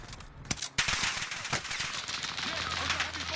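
Video game gunfire during a squad-based multiplayer match: sharp loud shots and a sustained burst of automatic fire over a dense battle din, with talk mixed in.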